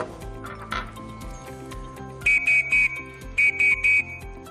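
A scout whistle blows the hurry signal as two sets of three short, sharp, loud blasts, heard alone over soft background music.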